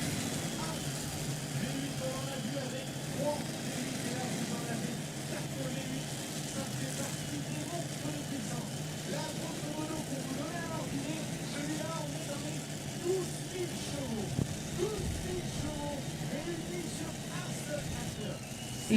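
Pulling tractor driven by four V8 Hemi engines, each over 3,000 horsepower, at a Bernay tractor pull, a steady dense engine roar throughout with a commentator talking over it.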